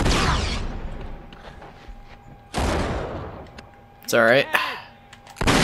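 Enemy gunfire crackles in Uncharted 3, with loud bursts of shots separated by quieter stretches and someone speaking briefly between them.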